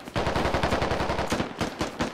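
Rapid bursts of automatic gunfire in the video game MARS: Prussian Pummel, a steady rattling stream of close, loud shots with a short pause midway before firing resumes, no voices present.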